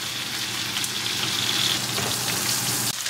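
A steak pan-fries over a gas flame, a close, dense sizzle with fine crackling and spatter that holds steady throughout.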